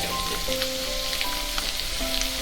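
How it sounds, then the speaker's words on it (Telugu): Mustard seeds spluttering in hot oil in a pan, a steady crackling sizzle with scattered pops and faint tonal hums underneath, no one speaking. "ఆవాలు చిట్టపెట్టలు ఆడే టైంకు మనం వెల్లుల్లిపాయ వేసుకోవాలి"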